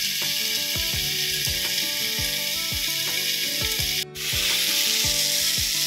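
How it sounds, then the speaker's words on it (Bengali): A roti fries in white oil on a hot tawa, giving a steady sizzle beneath rhythmic background music, with a brief drop in sound near the end before the sizzle resumes. "একদিকে তাওয়া বসিয়েছি সাদা তেল দিয়ে, রুটিটা ভেজে নেব।"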